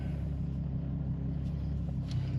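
A Toyota JZX90 engine idles steadily after being fixed, a low rumbling drone with a faint rhythmic pulse, moderately quiet and unbroken, with a couple of small clicks near the end.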